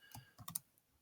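Keys on a computer keyboard clack in a few quick, close strokes over about a second, a short burst of typing in a quiet room.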